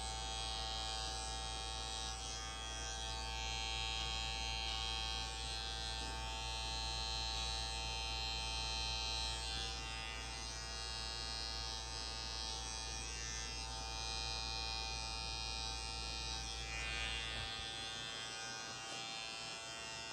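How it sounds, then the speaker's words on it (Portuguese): Electric hair clipper used as a finishing trimmer on the back of a haircut, buzzing steadily and close for the whole stretch, with its tone shifting slightly as it moves over the hair and then cutting off near the end. "Eu vou estar utilizando aqui a máquina de acabamento."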